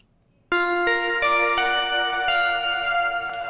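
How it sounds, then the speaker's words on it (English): Synth bell patch from the Dream Roads sample library, played as a short melodic run of bright, ringing bell notes with sharp attacks and long sustained overtones, loud and clear with no voices. "I love this library for when you just want kind of bell sounds"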